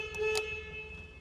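A classic SEAT 600 sounds its horn: a steady, buzzy single tone held for over a second, close and fairly loud over a low engine hum.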